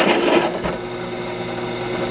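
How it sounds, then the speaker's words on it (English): A drill countersinking bolt holes in metal motorcycle lowering struts for an FZR restoration, a steady close-up whirring grind that runs continuously for a couple of seconds with a slight rise in the first half second. "I want to countersink these just to take the sharp edge off"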